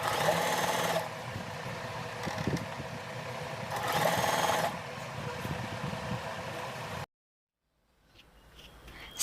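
Usha Janome Allure DLX sewing machine stitches in two short bursts of fast, even mechanical whirring, with quieter pauses between, ending in silence and faint handling noise.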